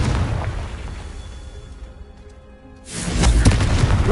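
Confringo blasting spell fired in the Hogwarts video game, giving a loud booming explosion with a rumbling tail that fades, then a second heavy burst erupts and roars on.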